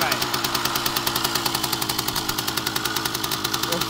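An old vehicle engine idles with a steady, rapid knocking pulse, loud and close throughout, its rhythm holding even as it is given a little throttle.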